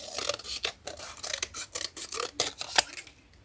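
Scissors snip through paper for a handmade junk journal, a run of quiet, close, irregular crisp cuts and rustles with short pauses between them.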